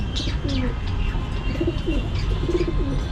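Pigeons coo in a loft, with several soft, low repeated coos and some faint chirps close by over a constant background rumble.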